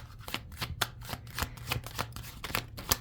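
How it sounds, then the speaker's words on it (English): Tarot cards are shuffled continuously, giving a quick, steady run of crisp riffling slaps close to the microphone, with no talking over them. "Kind of a lot of messages coming through here because I just wanted to keep shuffling."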